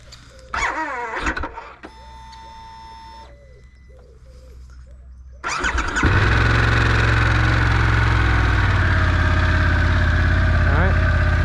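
A motorbike engine starts up and keeps running loud and steady at close range on a wet, frozen morning along the E6 toward Nordkapp, after some earlier mechanical whines and clicks.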